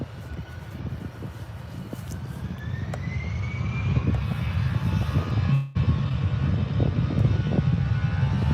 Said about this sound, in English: Taking its time, the A320.